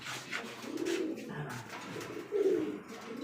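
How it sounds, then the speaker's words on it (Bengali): Pigeons of fancy breeds such as Bombay King, Shiraji and red Rajgolla give two low, throaty coos close by, each a rolling murmur over a quiet background. "তাহলে চলুন কবুতরগুলো দেখি"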